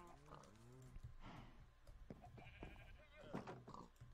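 Blocky Minecraft sheep bleat in short wavering calls near the listener, mixed with hoof-like clip-clop steps and other farm animal noises.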